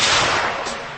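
Gatling or Maxim machine gun firing a short, loud burst of rapid shots at close range, fading out over about a second.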